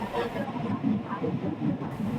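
Bernina railway train climbing a spiral track in the Swiss mountains, giving a steady close rumble with faint clattering and hiss over a short stretch.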